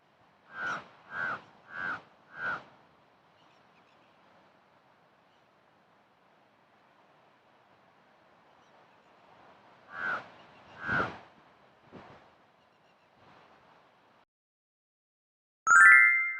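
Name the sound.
crow cawing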